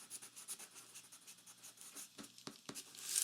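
Pen or marker scratching across a paper sewing pattern piece while a label is written on it, quick close strokes ending with a few sharper rubs.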